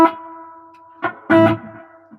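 A clean-toned electric guitar plays through a new amp at low volume, with a splashy reverb; a couple of sustained chords ring and decay, with a louder strum near the middle.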